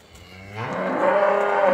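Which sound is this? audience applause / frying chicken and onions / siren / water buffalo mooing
water buffalo mooing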